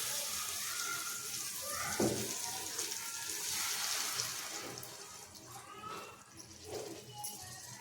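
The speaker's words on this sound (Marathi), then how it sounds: "आता आपण याच्यामध्ये पाणी टाकूया" Water runs and splashes steadily into a pot of egg curry for several seconds, moderately close, with a couple of brief knocks and a voice speaking faintly underneath.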